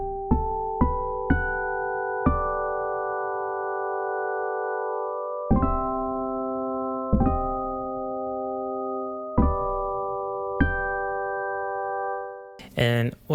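A piano-like synth built from LOM Geofon geophone samples plays separate bell-toned notes and chords, each struck sharply and ringing out cleanly, ending with a brief noisy burst.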